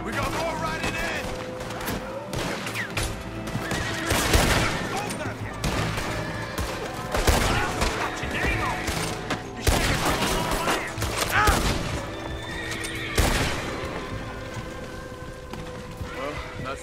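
Horses galloping in during a Red Dead Redemption 2 shootout, hoofbeats thudding amid repeated loud gunshot bursts, with voices shouting over the action.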